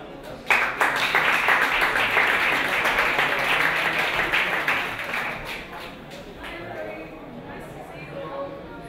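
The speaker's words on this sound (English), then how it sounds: "please welcome and giving her a big round of applause" Conference crowd applauds a speaker taking the stage, steady dense clapping that swells quickly and holds, then thins and fades toward the end.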